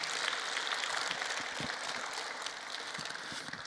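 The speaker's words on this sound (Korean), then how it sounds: "박수 좀 치세요" A church congregation claps in applause, a steady wash of many hands heard somewhat distant and fairly soft, continuing evenly for a few seconds without talk.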